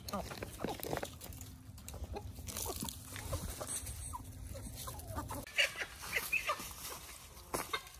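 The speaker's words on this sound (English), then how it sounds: "Now all the chickens are happy." Farm chickens cluck and squawk in a busy, overlapping chatter, with sharp calls scattered throughout and a steady low hum underneath.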